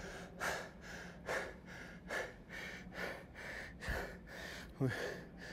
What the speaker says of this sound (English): We're breathing heavy now.